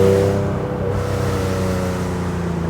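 A Theon Design Porsche 911 Targa restomod's 400-horsepower flat-six engine and exhaust drone steadily on the overrun, a loud, sustained low hum with no talk.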